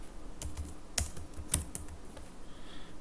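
Quiet, irregular keystrokes on a computer keyboard while code is written, a few sharper clicks standing out among softer taps at close range.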